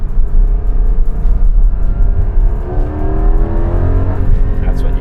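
A 2020 Porsche 718 GT4 engine revs hard above 5000 rpm, a loud, close, continuous rising howl that climbs steadily in pitch as the car accelerates.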